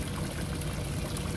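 Pond filter bio balls rinsed in a bucket of pond water, giving a steady, close wash of sloshing and trickling water that carries on without a break and with no voices.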